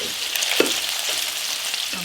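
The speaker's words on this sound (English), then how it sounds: "we're going to start frying our vegetables" Vegetables frying in bacon fat in a pot for a smoked porter stew, a steady close sizzle with a few soft stirring scrapes and no voices.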